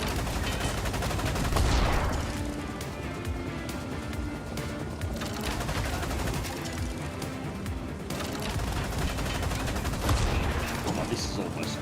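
Bushmaster cannon fire in the video game Cleared Hot: dense bursts of rapid, heavy gunfire rolling on continuously with booming impacts, loud and close throughout.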